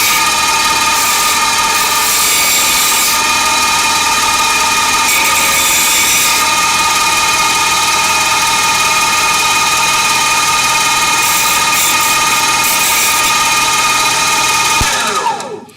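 A rotary tool fitted with an abrasive cutting wheel grinds steadily through a printed PLA plastic part, a loud continuous high-pitched whine with small shifts in load that runs almost the whole time before cutting off at the end.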